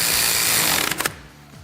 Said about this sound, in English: Then we're going to go ahead and fully tighten our shock hardware.